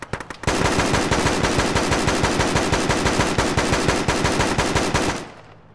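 Sustained automatic gunfire in ShackTac Arma, a military video game: a loud, dense, continuous burst of rapid shots lasting several seconds, then stopping abruptly.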